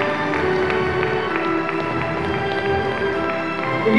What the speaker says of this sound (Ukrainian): друзі, оплески для неї